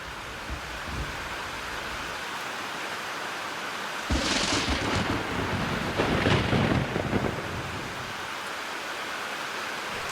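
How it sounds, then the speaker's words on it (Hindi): Heavy rain pours in a steady, dense wash, with a deeper rumbling surge of thunder swelling midway and fading back. No one speaks. "सुखदेव के घर के बाहर निकलते ही भयंकर वर्षा होने लगी।"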